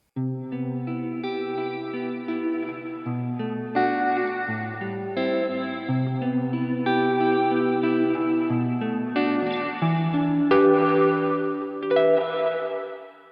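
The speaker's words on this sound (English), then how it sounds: "That brought up the mix on the reverb." Electric guitar through a Line 6 POD Go running the Ambi Plus reverb, playing sustained chords with a wet, spacious tail that blends each change into the next; steady and fairly loud alone for the whole stretch, no talking.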